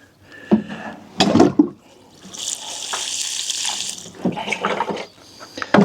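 Water is poured into the soil hollow around a newly planted autumn garden plant, a steady splashing pour of about two seconds between bursts of handling and rustling.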